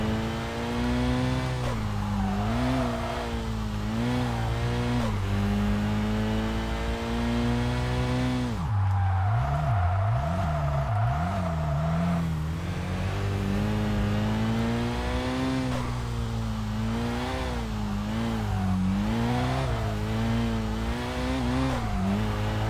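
A race car in Kaido Racer 2 revs hard with turbo boost, its engine note climbing through gears in rising sweeps, dropping briefly mid-run with a slide before pulling strongly again, close and loud throughout.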